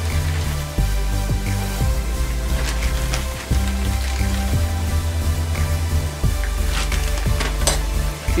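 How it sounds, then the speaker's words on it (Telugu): Sweet corn fries in a pan for white sauce pasta, a steady sizzle with occasional stirring scrapes, running beneath louder background music throughout. "ఇప్పుడు మనం దీంట్లో స్వీట్ కార్న్ యాడ్ చేయబోతున్నాం."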